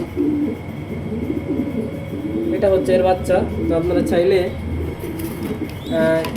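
A pigeon chick coos softly in low, repeated bursts close by. Someone talks over the cooing for most of the time.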